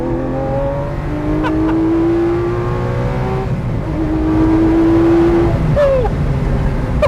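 Lamborghini Centenario supercar heard from inside under acceleration, a loud steady engine drone rising in pitch through the gears, with a brief shift break midway.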